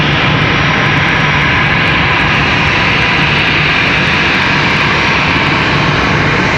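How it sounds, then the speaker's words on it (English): Airbus A319 jet taxiing into the gate at Charlotte Douglas International Airport, a steady, loud, broadband engine roar that holds constant throughout with no talk. "A319 going to slide into the gate."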